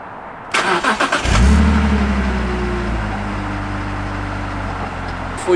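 A warm BMW E46 with a stock exhaust cranks with a rapid chugging starter, catches and flares up loudly, then settles into a smooth steady idle, recorded close with no voices.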